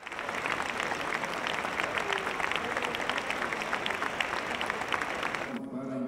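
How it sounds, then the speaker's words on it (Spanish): An audience at a medal ceremony in honor of Yolanda Montes "Tongolele" gives a minute of sustained applause for a late journalist, dense steady clapping filling the room before cutting off abruptly near the end. "los asistentes rindieron un minuto de aplausos a la memoria del periodista veracruzano Jorge Saldaña"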